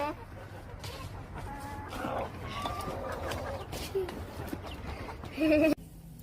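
Chickens on a rooftop cluck in short, scattered calls at moderate distance over a low background hum, with a brief louder burst near the end.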